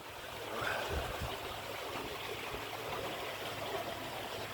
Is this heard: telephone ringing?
no